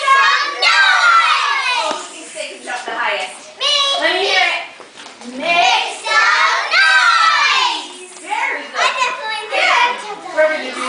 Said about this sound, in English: I want you to yell and jump